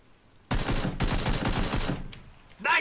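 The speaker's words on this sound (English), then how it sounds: "Holy shit, that was some good shooting, man." Rapid bursts of automatic gunfire from the video game PlayerUnknown's Battlegrounds crackle in a tight volley of shots lasting over a second, followed by a couple of fainter trailing pops and a short spoken exclamation at the end.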